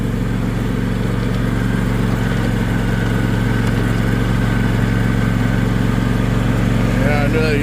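A lawn mower engine runs on a farm, a steady low idling rumble that carries on throughout at close range, with a brief voice-like sound near the end.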